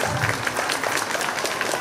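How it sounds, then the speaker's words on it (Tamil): Audience applause at a school Annual Day and Graduation Day celebration in Sankaranpalayam: dense, steady clapping from a crowd that continues evenly throughout without a break. "ஒரு பெரிய கைத்தட்டல் கொடுத்தீங்கன்னா நல்லா இருக்கும்"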